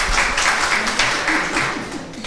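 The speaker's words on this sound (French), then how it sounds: "vous pouvez applaudir, hein." Audience applause at a French talk on role models, a dense continuous patter of clapping from a room full of people, fairly loud and even for a couple of seconds, without speech on top.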